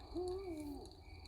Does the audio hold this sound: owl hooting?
yes